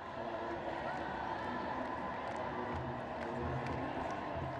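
A vast crowd gathered for the Epiphany festival in Addis Ababa, Ethiopia, producing a steady, dense murmur of many voices with scattered louder calls throughout.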